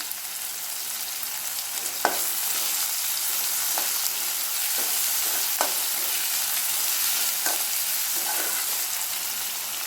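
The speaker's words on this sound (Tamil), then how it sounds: "வெங்காயம் நல்லா வதங்கட்டும்" Onions sautéing in a pan for pepper prawn gravy give a constant bright sizzle, close and steady, broken by a few sharp spoon taps and stirring scrapes spaced through the clip, with no speech.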